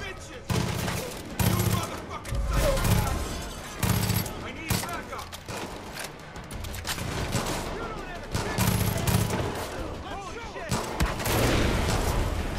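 Rapid machine gun bursts and scattered gunfire in the video game Far Cry 5, loud and close, coming in repeated volleys with brief gaps between them across the whole stretch.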